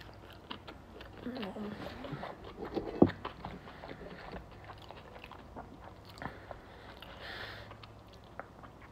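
Someone chews a toasted cheese sandwich served with tomato soup, making soft close crunches and bites with one sharper crunch midway, under quiet background noise.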